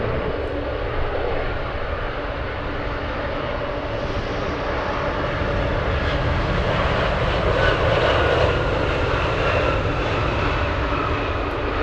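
An aircraft engine roars steadily as a plane taxis toward runway 25 at Anchorage airport in gusty wind, a loud continuous drone with slight swells throughout and no talking.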